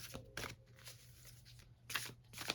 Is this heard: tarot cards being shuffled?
yes